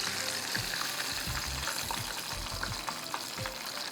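Boneless chicken pieces frying in a pan give a busy, crackling sizzle, with irregular pops and bubbling spatter throughout and moderate loudness.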